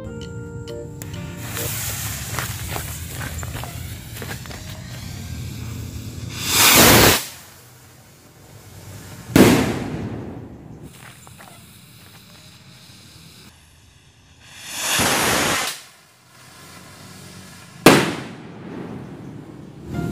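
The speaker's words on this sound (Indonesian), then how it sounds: "Oke teman-teman, langsung aja kita nyalain mercon yang pertama." Mercon firecrackers lit and set off during the fasting month, a hissing fuse followed by four loud separate bangs with whooshing tails spaced a few seconds apart, heard close by.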